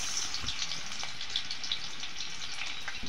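Onion frying in hot oil in a pan, a steady, fairly quiet sizzle and crackle with small pops scattered throughout.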